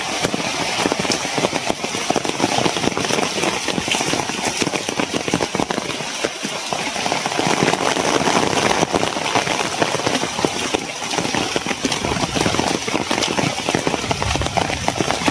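Rain falls as a dense, steady patter with crackly drops hitting a surface, continuous and fairly loud, with a brief quieter stretch midway and no clear speech.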